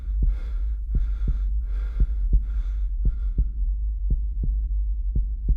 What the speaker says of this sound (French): Ses respirations s'accélèrent, son pouls file, rapide.